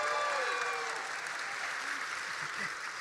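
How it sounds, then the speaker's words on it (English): Steady audience applause fills a convention hall during a Q&A session with an actor, a dense wash of clapping from many hands throughout, with faint voices underneath. "Round of applause for our Agent Carter cosplayer."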